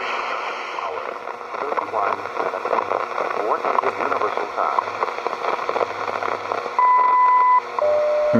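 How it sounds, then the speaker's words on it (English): Shortwave radio hiss and crackling static fill the band from a random wire antenna, steady and fairly loud, with a faint voice buried in the noise and a brief tone near the end. "You can kind of hear him talking, but we got a lot of static."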